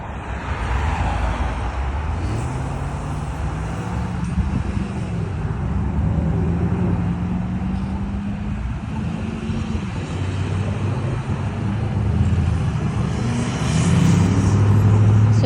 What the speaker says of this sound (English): now the parallel traffic is on my right side. And there's some of it's moving, some of it's turning left